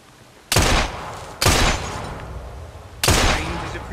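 Three sharp gunshots aimed at bottles ring out in Assassin's Creed Syndicate, each a loud broadband crack with a lingering tail, spaced about a second or more apart.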